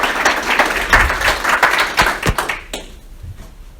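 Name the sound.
audience applause for speaker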